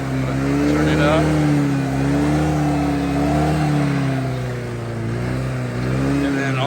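A Honda Metropolitan scooter engine that had trouble starting after sitting idles close by and is throttled up, its steady buzzing drone swelling and easing in gentle waves across the whole stretch.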